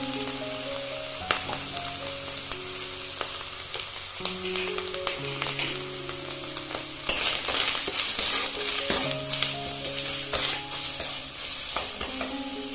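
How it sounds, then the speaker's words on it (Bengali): Spice paste of salt, chili powder and turmeric fries in oil for a village-style egg curry, giving a steady sizzle with scraping stirs that grows louder partway through. "এবার মশলাটিকে ভালোভাবে কষিয়ে নেব যতক্ষণ না তেল ছেড়ে আসছে"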